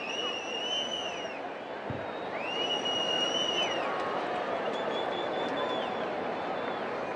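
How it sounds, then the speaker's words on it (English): A crowd of about 22,000 fills a baseball stadium during a Minnesota Twins vs Chicago White Sox MLB game, a steady, wide murmur throughout with a few thin, high whistle-like tones rising above it. "Good crowd on hand."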